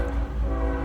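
A passing train sounds its horn nearby: a sustained, droning blare with a low rumble beneath it fills the short moment at a loud, steady level.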